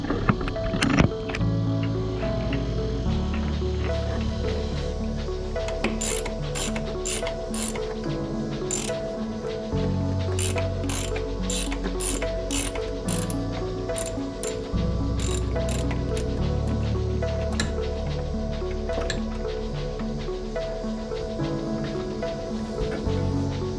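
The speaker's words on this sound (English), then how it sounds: "Now I'm going to get in there and move the adjustment bolt, and we're going to loosen it up so that the serpentine belt is loose" Ratchet wrench clicking steadily while loosening the adjustment bolt on a Jeep serpentine belt tensioner, close and continuous with rapid pawl ticks over a low mechanical hum throughout.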